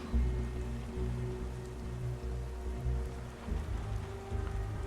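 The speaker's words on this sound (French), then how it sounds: "J'en ai ma claque de toute cette pluie." Steady rain falls in a scene of the video game Detroit: Become Human, a continuous hiss of drops on surfaces over a low rumbling background, with no voices.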